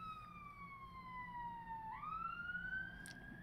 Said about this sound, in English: Amount of ambulances going past today as well.